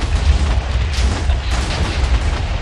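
Repeated explosions in the video game Minecraft, with a continuous rumbling barrage of booms running back to back for the whole short stretch.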